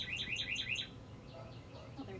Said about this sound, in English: I do apologize for that annoying bird. I think it's a cardinal.